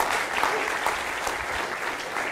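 Audience applause follows a session of conference lightning talks, a steady, dense wash of many hands clapping at fairly close range that holds even for the whole stretch.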